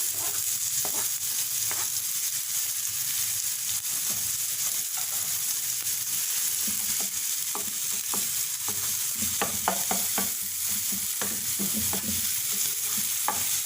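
Finely chopped small tomato sautéing in a pan for an Afghani omelette, with a constant hiss of sizzling oil and repeated light scrapes and taps of stirring close by, no speech.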